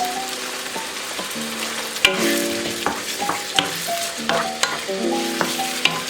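Meat filling with soy sauce and salt being stirred in a pan for pork bun filling, with irregular scraping and clinking strokes over a soft steady sizzle, fairly close.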